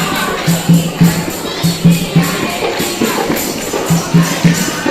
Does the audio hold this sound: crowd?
yes